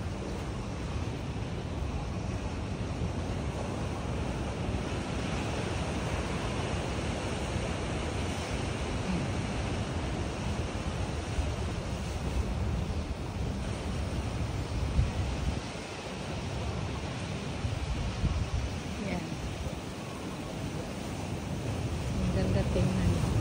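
Strong ocean surf at a Honolulu beach, a broad, continuous wash of breaking waves with wind buffeting the microphone throughout, fairly faint and steady.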